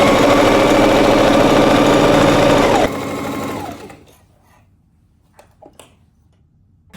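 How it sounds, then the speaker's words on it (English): Sewing machine stitching pillow fabric pieces together, a loud, steady rapid mechanical whir that slows and stops, followed by a few faint handling clicks. "let's go sew these together"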